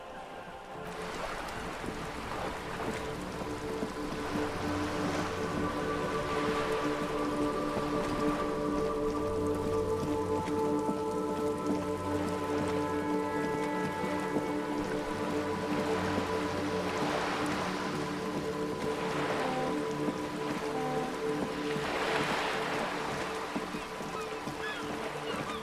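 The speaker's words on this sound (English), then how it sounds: "Droplets of rain fall on the white on blue police livery" Steady rain patters down in Disco Elysium, a continuous wash of droplets across the whole stretch with soft low engine-like hum and ambient tones beneath, no voices.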